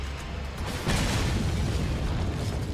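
A single pistol shot fired in the Resident Evil 4 video game, a sharp loud bang near one second followed by a sustained rumbling boom that fills the rest of the moment, with no talking.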